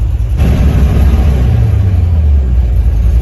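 Car engine with a high-pressure injection pump runs loud and close, a steady low rumble at idle that swells slightly as it is revved, with no talk over it.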